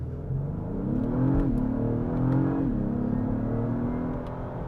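An Acura MDX Type S SUV launches hard, its engine note rising in pitch, dropping at a shift, then climbing again, heard from inside the cabin as a moderate, smooth rumble and whir.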